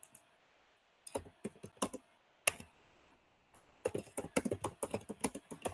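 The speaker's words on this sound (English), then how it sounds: "I'm typing." Bursts of rapid clicking keystrokes on a computer keyboard, close and clear, with quiet pauses between short runs of typing and a denser flurry toward the end.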